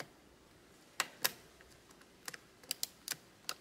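Ratchet clicking from a Shimano RSX bicycle shifter lever, sharp dry clicks in small irregular bursts, close and quiet against a faint background hiss.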